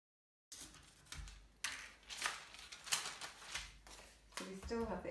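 A pencil traces an image onto tracing paper held to another sheet with a paper clip, giving close, scratchy strokes in irregular bursts with light rustling of the paper.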